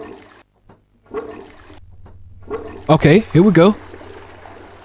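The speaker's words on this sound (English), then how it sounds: "Let's flush the toilet again." A toilet flushing in the video game Rinse and Repeat, a short loud gurgling rush of water heard right after someone speaks briefly, with faint background sounds between.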